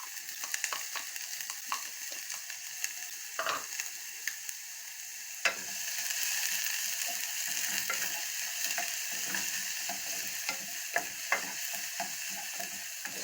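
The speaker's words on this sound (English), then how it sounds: "we're gonna fry the onions and the sausages and the chilies and so on" Finely chopped onion fries in a pan for tacos, a soft sizzle that thickens after a few seconds while a utensil scrapes and clicks through it in irregular taps, close up with no voices.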